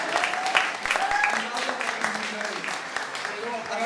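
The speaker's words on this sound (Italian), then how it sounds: "Ancora di più perché ha bisogno 2 volte di applauso." Audience at a lyric concert in Jesolo keeps up a round of steady applause for a tenor, with voices speaking over the clapping.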